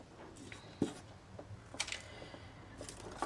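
Wire for a boho journal's bead and tassel trim is snipped, giving a few faint, quiet clicks and snips spaced out over a soft background.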